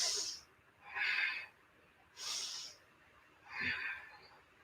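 Slow, deep breathing during a vinyasa yoga pose, with two full inhale-exhale cycles heard close and clearly, each breath a soft airy rush rising and fading in a steady rhythm.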